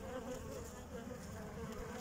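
Honeybees on brood frames inside an open hive give off a continuous, even buzzing drone, soft and unbroken.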